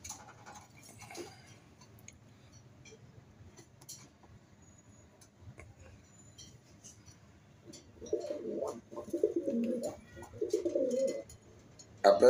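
A pair of Attend gel pigeons cooing up close: a quiet stretch of faint background noise, then two rolling bursts of low, throaty coos near the end.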